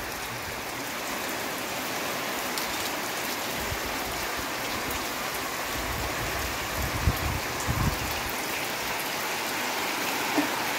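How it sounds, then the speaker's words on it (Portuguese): Heavy rain pours down in the backlands near Quixadá, Brazil, a dense, constant hiss, steady throughout with a few faint low thumps underneath. "Bastante chuva aqui no sertão de Uruguaiana."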